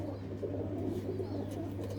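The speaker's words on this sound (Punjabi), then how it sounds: "ਚੰਗੀ ਨਸਲ ਦੀ ਕਬੂਤਰੀ ਆ ਬਾਈ ਇਹ" Low, continuous cooing from pigeons in a loft where a fine-bred female sits, a soft throaty murmur running the whole time with only faint background voices.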